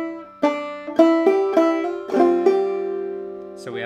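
Clawhammer banjo picks through one measure of the fiddle tune Cold Frosty Morn, a quick run of about seven bright, ringing plucked notes that sustain and overlap, played solo and close up.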